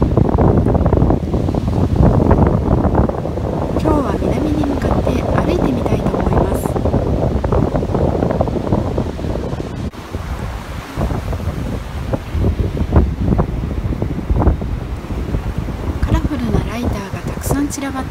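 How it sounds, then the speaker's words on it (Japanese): Strong north wind buffets the microphone over rough, stormy surf at a beach on the Ishikari coast, a loud continuous roar of wind and crashing waves, with a voice talking over it at times. "空は快晴ですが、北風が強く吹いていてとても寒いです。 海はしけていて"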